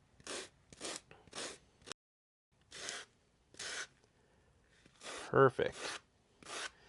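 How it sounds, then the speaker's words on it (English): Hand sanding a wooden axe sheath with 80 grit sandpaper: short bursts of coarse, raspy rubbing strokes with pauses between, close up, and a brief spoken word near the end. "we are just going to do a little bit of hand sanding here."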